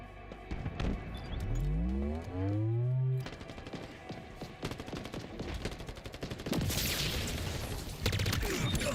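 Rapid gunfire from a video game, bursts of shots under a layered game soundtrack with rising tones and scattered impacts, fairly dense throughout.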